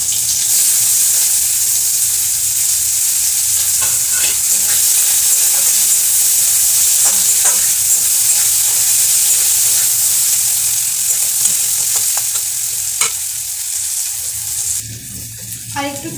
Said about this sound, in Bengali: এবারে পেঁয়াজগুলোকে ভেজে নেব।